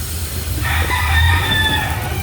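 A rooster crows from a nearby chicken coop, one drawn-out crow rising and holding for over a second before trailing off, heard clearly over a steady low background hum.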